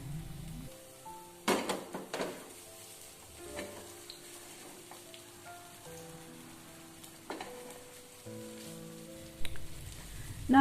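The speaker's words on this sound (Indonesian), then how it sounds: "Jadi saya tumis bawang merahnya dulu." Shallots sauté in a little cooking oil in a pan, giving a light continuous sizzle with sharp crackles and occasional utensil stirring clinks, close up and without talk.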